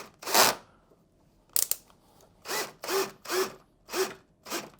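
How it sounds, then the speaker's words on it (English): A power drill drives a screw into a wood post during assembly, heard as short separate whirring bursts, one early, then a brief blip and four even pulses in a row, fairly close and moderately loud. "With the power drill at too tight of a setting, you can take it all the way in and strip out the wood"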